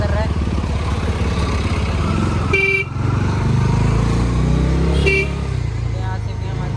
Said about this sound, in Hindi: देखो सुबह सुबह ही स्टार्ट हो गए ट्रैफिक